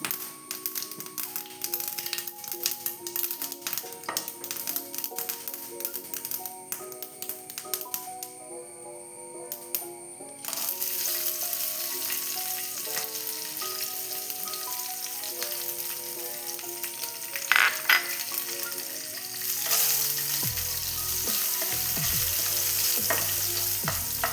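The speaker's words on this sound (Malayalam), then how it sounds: "വെളിച്ചെണ്ണ കാഞ്ഞിട്ടുണ്ട് കടുക് ഇട്ട് കൊടുത്തിട്ടുണ്ട് അതിലേക്കുള്ള പച്ചമുളകും പക്കമുളകും ഇട്ട് കൊടുക്കുന്നുണ്ട്" Mustard seeds, green chillies and dried chillies sizzle in hot coconut oil for a Kannur-style ulli theeyal, a roasted-coconut onion curry. The frying crackles steadily, with clinks of a spoon stirring the pan.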